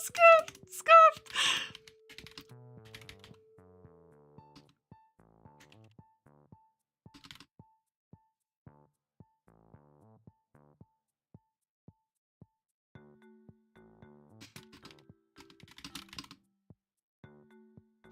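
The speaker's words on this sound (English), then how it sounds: "I'm just typing up the message." Typing a message on a computer keyboard: sparse, irregular key clicks over about eighteen seconds, close and fairly quiet, with a voice speaking briefly at the start and a few vocal sounds later.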